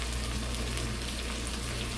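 Salmon steaks sear in grease in a small frying pan, giving a steady, dense sizzle and crackle that runs evenly throughout without any talking.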